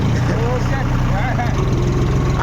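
A Mahindra 475 tractor stuck in mud, its diesel engine droning steadily at close range with a low pulsing rumble, and voices talking over it.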